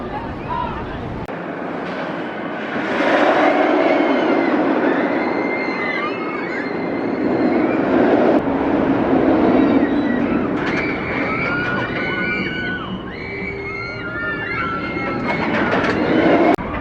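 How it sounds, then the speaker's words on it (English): A roller coaster train at Six Flags Over Texas rumbles and rattles along its track in a long continuous roar, with screeching wheels and faint voices mixed in. "that's one of the best coasters in the world"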